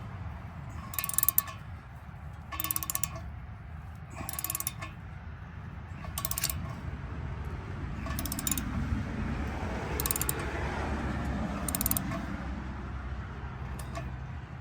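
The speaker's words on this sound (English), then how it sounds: "And while we're tightening this down, the expansion bolt is expanding inside of that" An expansion bolt is tightened down into a drilled post hole, probably with a ratchet: a steady series of sharp clicking bursts about every second and a half, close by, over a low background rumble.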